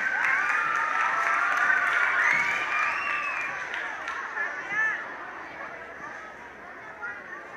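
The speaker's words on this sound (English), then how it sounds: "Nice round of applause for Sofia and Paula." An audience at a school music festival applauds two performers. Steady clapping is mixed with excited cheering voices and chatter, easing off gradually over several seconds.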